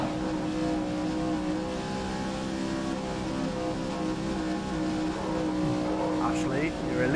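Race cars roaring around an oval track in the video game GRID, a steady dense engine drone that stays loud throughout, with a brief tire squeal near the end.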